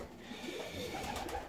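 Fancy ornamental pigeons coo softly in a low, murmuring run from nearby, with a faint hum of the loft around them.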